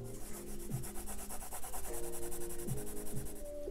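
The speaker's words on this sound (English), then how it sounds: "Using my chalk, scraping them on." Chalk scraped across paper in a mixed-media sketch gives a continuous gritty rubbing, close and fairly loud, with rhythmic strokes over a low background hum.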